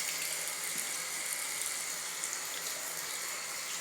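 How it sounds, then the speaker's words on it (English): Tap water running steadily as hands are washed at a sink, a continuous hissing stream, faint and close with no talking. "you need to make sure that you thoroughly wash your hands"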